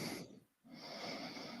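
Snoring over a live call, a long snorting rasp that drops out briefly and resumes, steady and moderately loud with breathy noise, likely a sleeping person or dog.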